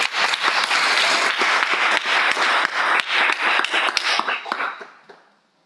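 Applause from a congregation at a church valedictory and commissioning service, a dense sustained round of clapping by many people that fades out near the end.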